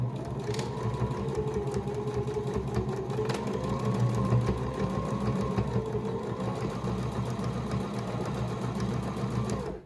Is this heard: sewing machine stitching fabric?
yes